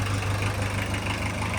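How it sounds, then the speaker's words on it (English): Boosted VW Golf Mk2 engine idling steadily while it warms up, a continuous low rumble with a strong low-pitched hum running evenly throughout, close and fairly loud with no talking. "Don't rev it up, because right now it's got brand new everything inside. So we just gonna let it, like, warm."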